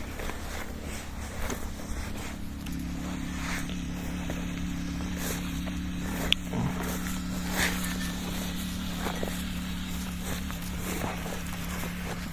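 Faint clip-clop of draft horses plodding along in Ukraine under a steady low hum, with scattered light knocks.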